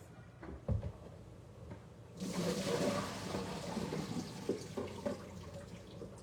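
Cut potatoes are drained out of water in a home kitchen: a short knock and clatter, then a steady rush of pouring, splashing water that runs for several seconds, moderately close.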